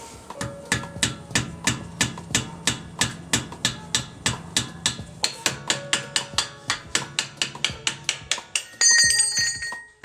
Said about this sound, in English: I think I might need a hammer because it's like welded on there from all the like debris and rust and whatnot